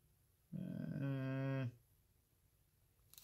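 A person imitating a cow's moo, one drawn-out, nasal, lowing call of about a second that rises in, holds and cuts off, loud and alone against a quiet room.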